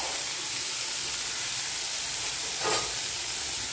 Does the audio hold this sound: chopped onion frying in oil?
yes